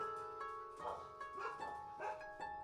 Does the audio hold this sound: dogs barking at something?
yes